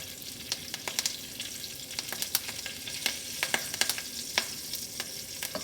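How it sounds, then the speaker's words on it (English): Hing hits hot oil in a pan while Gujarati-style Chinese okra and moong dal subji is being made, a continuous close sizzle dotted with many quick crackling pops and light stirring clicks. "oil is hot now. I am adding some hing"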